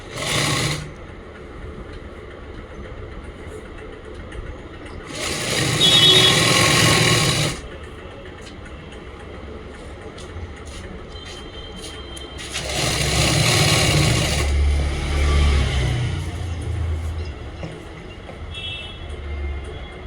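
A sewing machine stitches a plazo seam in two bursts of steady, loud mechanical whirring, each lasting a few seconds, separated by quieter stretches of room noise.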